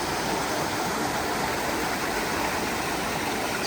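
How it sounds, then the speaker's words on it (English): Stream running through the middle of a town, beside a restaurant, a steady, dense rush of flowing water that stays even throughout, with no voices over it. "It has a stream running through the middle of it."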